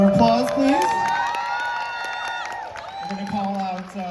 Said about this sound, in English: Give a little round of applause, please.